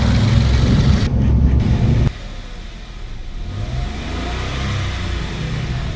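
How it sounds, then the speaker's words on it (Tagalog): A Kia Picanto engine is revved to warm up, a loud sustained rev for about two seconds that then drops suddenly to a lower, steady idle. "Rev lang muna natin para mas madaling uminit yung makina."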